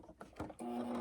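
A sewing machine runs steadily across the open seams of a boxed corner on a quilted padded tablet bag. A brief start-up comes after a few soft handling noises, then a continuous close hum holds to the end, with no talking.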